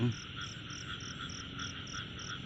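Frogs croak steadily at night during frog catching in Thailand, a continuous chorus of evenly pulsing calls at moderate distance with insects faintly underneath and no talk.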